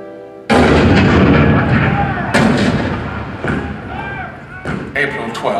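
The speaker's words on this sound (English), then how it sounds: "The cannon spoke for war, bitter, violent, and devastating." Cannon fire at Fort Sumter in the Hall of Presidents show: a loud opening boom followed by further heavy blasts at irregular intervals, with rumbling battle noise and faint voices underneath.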